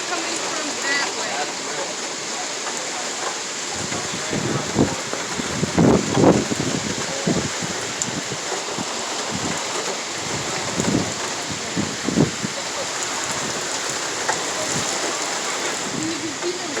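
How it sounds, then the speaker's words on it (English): Heavy rain pours steadily outdoors in Brooklyn during a windy thunderstorm, a loud, continuous wash with occasional stronger gusts and splashes, while people talk over it. "You can see the raindrops."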